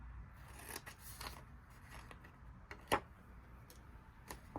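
Scissors trim and notch paper for a 3-D butterfly craft, with quiet, close snips scattered across the moment and one sharper, louder cut near the end, without talking.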